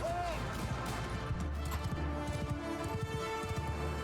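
Cavalry horses gallop through a medieval battle in Mount & Blade II: Bannerlord, hooves pounding in a rapid, dense rhythm with clashing battle noise while someone talks over it.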